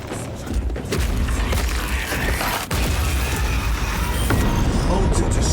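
A corrupted altar is destroyed in Warhammer 40,000: Space Marine II, heard as a loud continuous rumbling, crumbling roar with heavy low booms and a brief dip midway before the din resumes.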